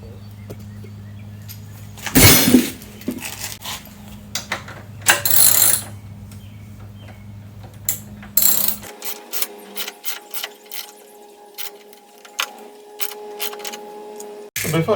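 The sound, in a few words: ratchet tightening bolts on Harley Sportster saddlebag supports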